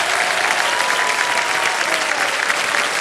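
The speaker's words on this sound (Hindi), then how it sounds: "जब तक ये ताली बजती रहेगी हम तब तक लगे रहेंगे इसे।" A studio audience on the KBC quiz show applauds with steady, dense clapping that stays loud and continuous throughout, with no talk over it.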